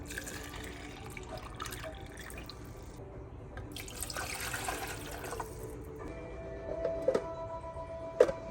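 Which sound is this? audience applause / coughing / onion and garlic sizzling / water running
water running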